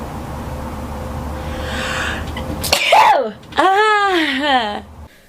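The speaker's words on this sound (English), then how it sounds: "I have the start of a sneeze." After some low background noise, a girl lets out a sharp sneeze, followed by a drawn-out voiced exhale or sound of relief, close to the microphone.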